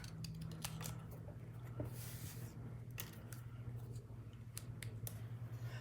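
Scissors snip through a piece of card while making gift tags, a series of quiet, crisp cuts spaced irregularly over a low steady hum.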